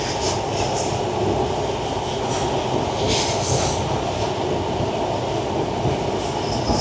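Sundarban Express train running from Dhaka toward Faridpur past Keraniganj station, a steady close rumble of wheels and carriages with faint rhythmic clatter throughout, no talk.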